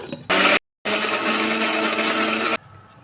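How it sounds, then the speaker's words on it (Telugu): An electric mixer grinder whirs through onion, red chili and garlic for a paste: a short loud burst, a brief silence, then a longer steady high-pitched grinding run that cuts off abruptly. "ఇప్పుడు ఇది మొత్తం మెత్తగా మిక్సీ వేసేసుకున్నాం"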